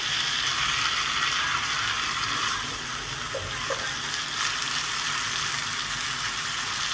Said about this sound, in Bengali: এই ভাজা পেঁপে আর আলুগুলো দিয়েও আমি 2 থেকে 3 মিনিট সুন্দর করে কষিয়ে নেব।